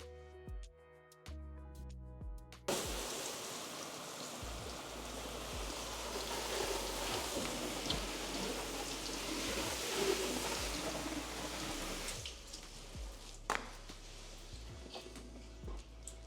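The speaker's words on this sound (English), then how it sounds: "so I'm gonna rinse with my hose" A garden hose rinses soap off a car in a steady, close spray hiss. The hiss starts abruptly, runs for roughly nine seconds, then cuts off, leaving quieter ambient sound with faint birds.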